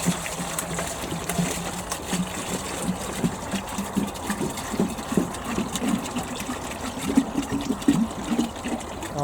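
Fresh water poured into a chicken waterer, a continuous gurgling, splashing flow with uneven bubbling pulses at close range, running for about nine seconds with no speech.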